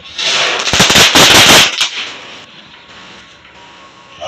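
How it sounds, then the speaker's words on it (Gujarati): A crackling Diwali firecracker goes off nearby in a loud, rapid burst of sharp snapping pops lasting about a second, then fades into quiet background noise. "તળતળિયો ફરગાયો છે"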